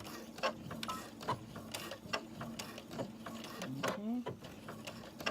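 A sewing machine back tacks while stitching a zipper into fabric, with a quick run of mechanical ticks and clatter close by and a brief spoken word over it.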